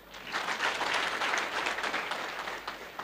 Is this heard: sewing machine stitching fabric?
no